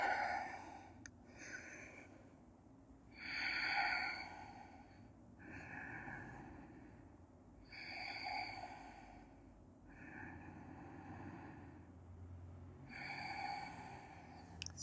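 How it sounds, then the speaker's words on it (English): Slow, deep breaths taken in a yoga forward fold, about five soft inhale-exhale cycles that are close and quiet, with the airflow audible through the nose. "And taking 5 deep breaths here."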